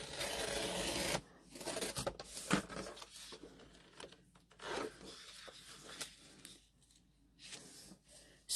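Paper is trimmed to remove its white border while making a journal, with quiet rasping, scraping cuts in several short bursts separated by pauses, heard up close and alone.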